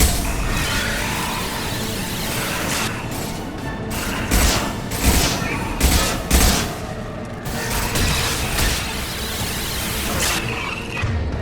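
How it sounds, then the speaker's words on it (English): Heavy gunfire from the video game Mass Effect 2 fills the scene, with dense, loud shots and impacts over a steady roar of combat noise that swells into several booming bursts. "Firing a high-impact shot."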